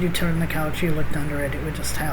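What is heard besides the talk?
No distinct noise like a dog, phone or traffic.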